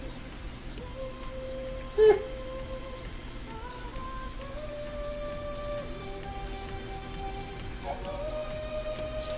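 Steady patter of rain across a surface in the video game Final Fantasy XIII, with a soft musical background and a single short knock near the start.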